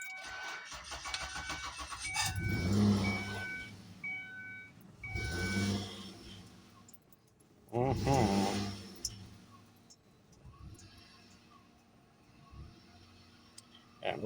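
A car running on an older battery cranks and starts, with three surging engine bursts a few seconds apart, each rising and fading, then a low idle; close and fairly quiet, with clicking between attempts.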